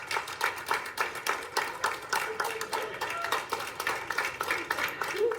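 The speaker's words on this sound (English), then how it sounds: "Staff at Lakeridge Health cheer as Joe Persico is seen making his way" Hospital staff at Lakeridge Health clapping and cheering as a coronavirus survivor leaves the ICU, a steady dense patter of many hands applauding throughout, with cheers mixed in.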